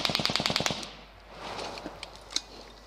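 Gunfire in a combat zone with U.S. troops, a quick string of about ten sharp, evenly spaced shots at the start, then scattered single distant cracks and faint background noise.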